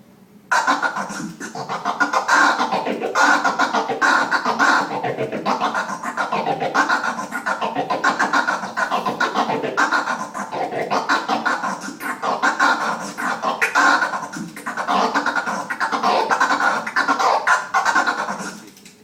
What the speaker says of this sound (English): The transformer scratch is when you cut with the crossfader